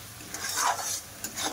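Spiced lote fish (Bombay duck) is stirred in a pan, making a brief burst of close, soft scraping and sizzling strokes from a utensil against the pan.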